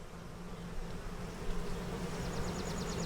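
Honey bees and drones crawling on a hive frame give off a steady, close buzzing hum, with a low drone throughout and a few brief higher buzzes from insects passing near.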